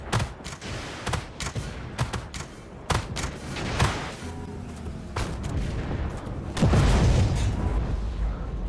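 Tank guns in the Armored Warfare desert battle fire in a rapid string of sharp cracks and booms, followed by heavier explosions and a sustained rumbling roar.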